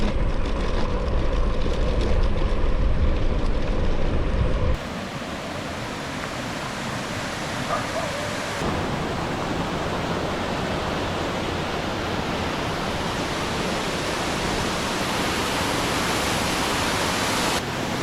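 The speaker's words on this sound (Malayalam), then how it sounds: "ഇതാണ് നമ്മുടെ ഇലപ്പിള്ളി വെള്ളച്ചാട്ടം" Elappilly waterfall pours with a steady broadband roar throughout, loudest and fullest for the first few seconds before settling into a slightly softer, even rush of falling water; no voices.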